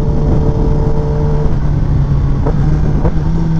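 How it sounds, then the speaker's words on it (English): A Kawasaki Ninja ZX10R motorcycle accelerates at quarter throttle, its engine holding a loud, steady, close drone with a couple of brief shifts in pitch partway through. "This bike is fast. That was like quarter throttle rolling into it"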